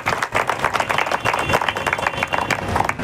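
Crowd applause at a kirtan during a Shri Datta birth festival gathering, dense continuous clapping from many hands filling the space, fairly close and sustained throughout.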